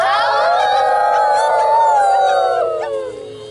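A group of first graders on a field trip to Ableman Gorge howling together in imitation of coyote calls, a loud sustained chorus of overlapping voices that glides slowly downward and fades out at the end.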